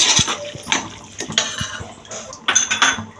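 Carrots and beans being mixed in a metal pan for vegetable pulao, with a spoon scraping and clinking against the pan in several short, close, irregular strokes; no one speaks.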